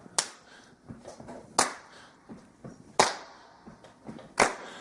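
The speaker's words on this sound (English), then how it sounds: "Can I get a good clap on beat?" Hands clap a slow, steady beat, four sharp, loud claps spaced about a second and a half apart, with softer in-between claps and taps filling the gaps and no voices.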